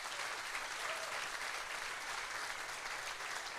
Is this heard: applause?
yes